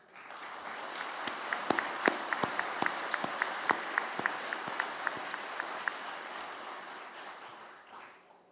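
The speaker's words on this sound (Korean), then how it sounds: "경찰 여러분의 헌신에 격려의 박수를 보냅니다." Audience applause at a national Police Day ceremony in Korea: a dense, even wash of clapping from a large crowd, with a few sharp individual claps standing out, sustained for several seconds before tapering off.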